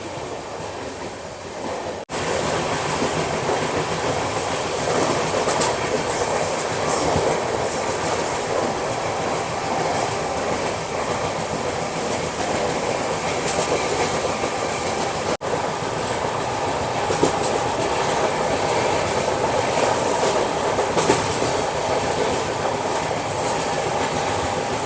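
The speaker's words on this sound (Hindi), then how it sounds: "सामने से देखो कोई ट्रेन आ रही है" A passing train heard from the vistadome coach of the Howrah–New Jalpaiguri Shatabdi Express: a loud, steady rumble of rolling wheels with rhythmic clickety-clack and faint squeals, continuing unbroken for the whole stretch with no talk.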